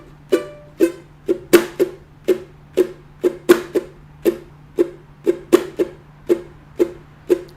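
Fast guitar strumming in a down, up and air-stroke pattern, bright rhythmic strokes in a steady quick pulse with regular accents, close and clear with no talking.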